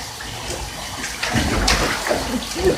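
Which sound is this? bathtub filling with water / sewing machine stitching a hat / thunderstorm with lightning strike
bathtub filling with water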